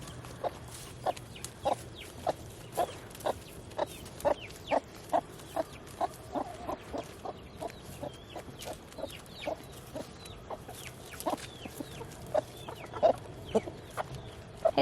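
Chickens on a homestead, a flock with a rooster during autumn molt, cluck in short, regular bursts close by, with steady low farmyard noise beneath and no talking.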